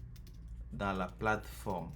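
Computer keyboard typing while entering a university name into a web form, a few soft clicks mostly masked by someone speaking French over them.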